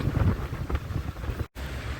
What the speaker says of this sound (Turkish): Vallahi rüzgar nefesini kesiyor insanın